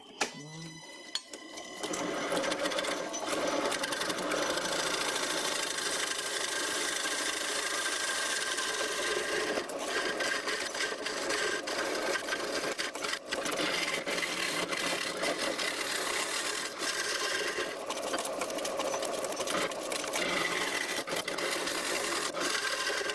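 A homemade bowl gouge cuts hard end grain wood on a lathe, a steady loud rasping scrape with a shaky, chattering texture that runs on for a long stretch after a brief start.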